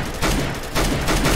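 Gunfire in the Roblox game Mad City, a few rapid bursts of shots heard close and fairly loud in quick succession with no talk over them.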